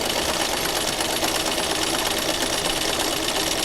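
Sewing machine doing free-motion stitching backwards, a dense, steady high-speed whirring hum that runs unbroken and close throughout.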